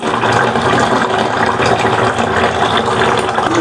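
Water pouring steadily into a bucket, a loud continuous gushing splash with no talk, used to fill it for soaking a clay pot during seasoning.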